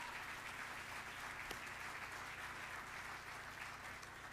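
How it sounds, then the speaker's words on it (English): At an awards ceremony, the audience gives a round of applause for a part-time faculty award recipient. The crowd clapping is steady and quite faint and distant, with no voices heard over it. "Let's give him a round of applause."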